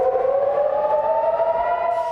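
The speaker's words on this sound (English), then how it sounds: "Air raid sirens wail in Israel as the military says it intercepted rockets fired from the Houthis in Yemen" Air raid sirens wail across Israel during a rocket attack from Yemen, a steady rising electronic tone with layered harmonics sustained loudly and continuously, no voices.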